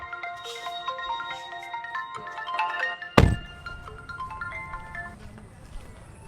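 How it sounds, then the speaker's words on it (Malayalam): A mobile phone ringtone plays a bright, repeating electronic melody for several seconds, with a sharp thunk partway through and faint background talk. "ഇവിടെ എൻ്റെ ഫോൺ അടിക്കുന്നത്"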